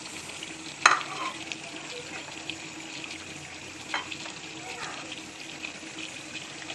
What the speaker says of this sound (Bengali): এটা এতক্ষণ পর্যন্ত আমি এটা কষিয়ে নিলাম, তেলের মধ্যে একটু ভাজা ভাজা করে নিয়ে